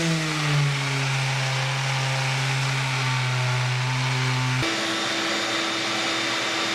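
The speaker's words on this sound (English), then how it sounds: "what I do with the palm sander is I apply a lot of pressure under the top" A palm sander works an oak floor as a loud, close, continuous whine with steady motor tones. The pitch shifts as pressure changes, and there is no talking.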